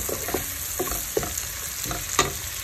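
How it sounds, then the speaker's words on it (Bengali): Onions sautéing in a pan with mustard paste, green chilli, turmeric and salt for hilsa with green banana, a soft steady sizzle broken by several scraping stirs, close and fairly quiet. "আমি সরিষা বাটা, কাঁচামরিচ, হলুদ লবণ দিয়ে দিয়েছি, এটি একটু কষিয়ে নিব।"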